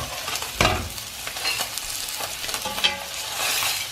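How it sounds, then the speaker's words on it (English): Halibut fillet pan-frying in butter in a tilted pan gives a steady close sizzle, with a sharper burst of spitting and a few light clatters of the pan. "I add a touch of butter, just tilt the pan slightly so it gets under that fish"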